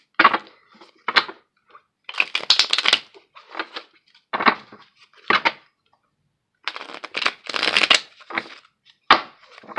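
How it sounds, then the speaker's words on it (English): A deck of tarot cards is shuffled by hand in close, crisp bursts of riffling and flicking. The bursts are separated by short pauses, with no talking. "We'll do a quick shuffle."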